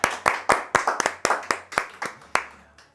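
A small group claps together in a podcast setting, about a dozen sharp, separate hand claps in a fairly steady rhythm, close and clear, fading out at the end.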